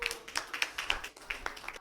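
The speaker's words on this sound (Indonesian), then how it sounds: "Oke, tepuk tangan untuk kelompok 3." Classroom applause for a student group in a computer and informatics class: a short burst of several people clapping at close range, quick and fairly even in rhythm.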